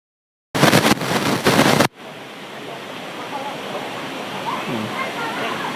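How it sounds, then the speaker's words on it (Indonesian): A river flowing from the Montel waterfall on Mount Muria near Rejenu: a steady, close hiss of rushing water that runs to the end, after a brief burst of loud, harsh rumble at the start. "Saat ini kami harus menyeberangi sungai yang mengalir di depan kita, yaitu alir dari air terjun Montel."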